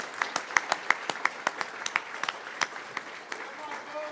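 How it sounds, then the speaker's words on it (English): Applause rises from a crowd at an election night primary speech in Colorado, individual sharp claps standing out over a softer spread of hands, fairly distinct and steady for about four seconds with people murmuring beneath. "Please give him a round of applause"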